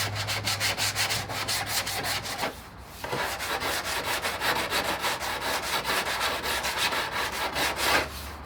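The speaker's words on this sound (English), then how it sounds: "Block sanding is your best friend if you want good results." A car's front bumper being block sanded by hand, with steady rhythmic rasping strokes back and forth close up, a brief pause midway, then continuous scrubbing resumes.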